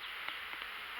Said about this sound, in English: Oh, it's boiling with bees.